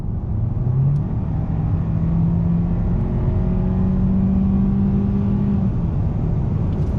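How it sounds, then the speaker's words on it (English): A 2021 Hyundai Sonata SEL Plus sedan pulls steadily under acceleration from inside the cabin, rising tones climbing as its 8-speed transmission shifts through gears over constant road rumble. "Let me go ahead and get on throttle."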